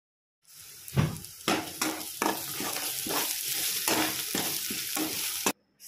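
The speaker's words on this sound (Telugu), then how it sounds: "వేసుకొని వేపుకోవాలండి బాగా." Chili powder and turmeric frying in hot oil as a potato kurma base, with a steady sizzle broken by about a dozen regular spoon strokes scraping the pan, close and fairly loud, with no talking.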